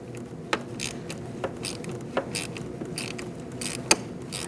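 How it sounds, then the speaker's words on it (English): A ratchet with a 10mm socket loosening the negative battery terminal nut on a 2008-2014 Mercedes-Benz C300, giving several sharp clicks spaced between softer ratcheting strokes, close up. "I'm going to loosen up this nut."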